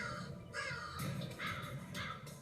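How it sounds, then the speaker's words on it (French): Crows caw repeatedly in an urban setting, a series of harsh, raspy calls in quick succession, fairly close and clear over steady background noise. "Les corbeaux sont des animaux urbains, eux aussi."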